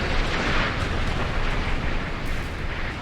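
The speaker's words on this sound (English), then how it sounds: "Wow, that's the naval gunfire" Naval gunfire from 100 mm turrets in the Sea Power naval combat game, a dense, continuous roar of rapid booms and blasts filling the whole span at steady high loudness, with no voices.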